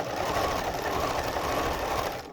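Sewing machine overlocking the edge of cushion-cover fabric, a steady close whirring hum that runs without a break and with no voices.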